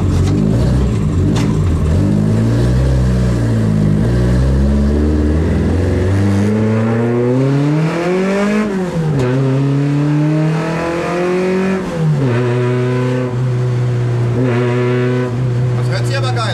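An original, unmodified Opel Manta engine revs loudly during a parade drive, its pitch sweeping up and down through repeated throttle blips and gear changes, close and sustained with voices underneath.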